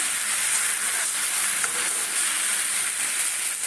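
Spice paste with ground black pepper sautéing in a pan for a button mushroom dish, a dense continuous sizzle heard close and loud with no talk.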